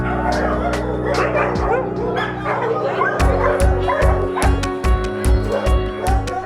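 Several dogs bark, yip and whimper in a crowded South Texas animal shelter kennel, a dense overlapping chorus of close, loud barks with sharper bursts growing in the second half, while a person talks over the noise.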